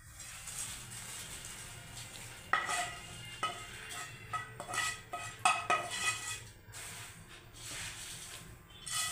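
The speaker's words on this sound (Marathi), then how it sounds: "तर आता ही तयार फोडणी आपल्याला मुरमुऱ्यांमध्ये घालून घ्यायची आहे." Prepared tempering goes into puffed rice in a pan for spicy bhadang chivda, bringing intermittent metallic clanks, scrapes and stirring rattles at close range against a faint background hiss, with no voices.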